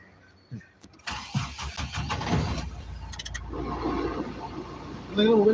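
A car engine cranks and catches after a short pause, then settles into a low idle, heard close from inside the vehicle with people talking over it.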